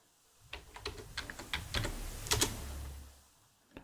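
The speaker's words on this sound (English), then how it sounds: "to clear the screen, you just type in clear" Several quick keystrokes clack on a computer keyboard in an uneven burst, close and fairly quiet, ending with a firmer tap followed by a short low hum.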